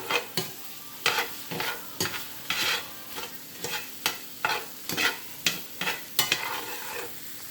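Sliced steak with peppers and onions sizzles in a pan under melting cheese, broken by a regular run of sharp scraping stirs over the frying hiss.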